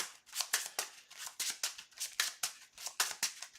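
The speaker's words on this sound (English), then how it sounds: "and then I shuffle" A deck of game cards being shuffled by hand during a tabletop card game, a quick run of crisp riffling bursts repeating in an uneven rhythm, close and moderately loud, with no talking.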